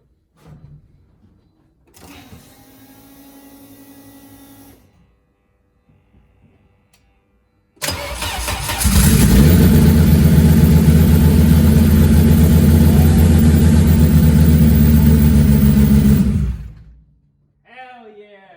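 A Volvo 850 T-5R with an AWD swap cranks in short bursts, then fires and settles into a loud, steady idle for several seconds before cutting off, close up, with a voice briefly at the end.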